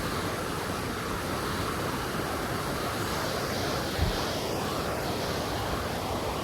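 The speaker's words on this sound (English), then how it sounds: "Pretty quiet here except for the river" The Gray Wolf River in Olympic National Park rushes past a backcountry campsite, a steady, broadband roar of flowing water that stays constant and fairly close, with no voices.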